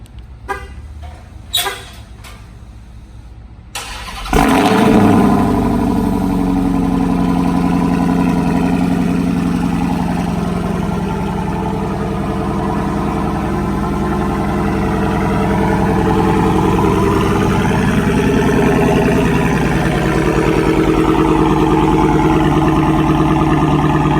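After a few sharp clicks, a car engine with a Borla Atak exhaust cold-starts with a loud surge, then settles into a steady, deep, raspy idle that carries on close-up and loud without speech.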